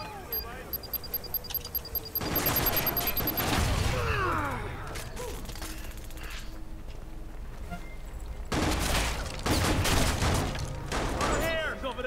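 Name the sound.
gunfire in a video game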